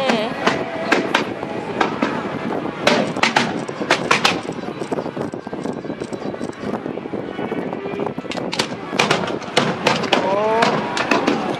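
Fireworks going off before dawn at Fulong, Taiwan, during a fireworks festival: a dense, continuous crackle with repeated sharp bursts and pops throughout, loud and close, with people chatting and exclaiming in the background.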